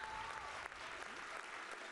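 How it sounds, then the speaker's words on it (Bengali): Loud applause from a studio audience for dancers on a TV dance competition stage, dense, steady clapping through the whole stretch with crowd noise behind it. "তোমাদের জন্য জোরে হাত তালি।"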